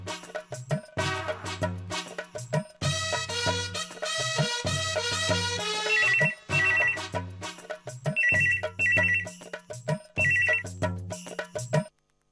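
A telephone ringing with a melodic ringtone, a repeating tune played in several bursts separated by short pauses, clear and close with no talk.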